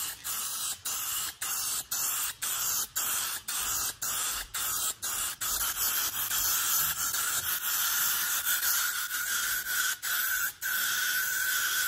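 Dark silver spray paint applied in a quick coat over a carbon fibre drag spoiler, a loud steady aerosol hiss broken by regular short pauses as the nozzle is pressed and released.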